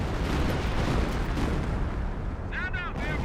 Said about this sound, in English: Decent strafing run there.